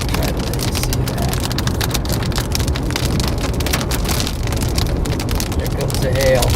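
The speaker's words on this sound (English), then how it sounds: "There comes the hail." A hailstorm in Collinsville, Oklahoma drums down continuously, a loud, even roar of countless small strikes that lasts the whole time. A faint tonal sound rises near the end.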